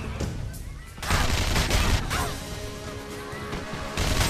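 Rapid machine gun fire in the online game TERA, loud dense volleys with crashing impacts that swell and ease over a few seconds amid busy game noise.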